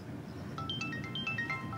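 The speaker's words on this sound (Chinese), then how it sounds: "编辑来电话" A phone ringtone for an incoming call plays a short, bright melodic pattern of repeated electronic notes over a low background hum, with no talk.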